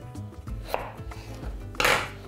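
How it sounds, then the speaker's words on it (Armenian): A knife cuts three medium potatoes into thick sticks on a cutting board, giving a few sharp, close thuds and clacks at an uneven pace with a louder final chop, no talk. "Կտրատում ենք հաստ ձողիկների"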